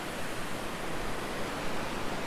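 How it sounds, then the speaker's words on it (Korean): Yongseo waterfall in the spring mountains of Yangyang cascades down from about 10 m, giving a steady, dense, close rushing roar with no pauses. "10m 높이에서 굽이쳐 내려오는 용서 폭포"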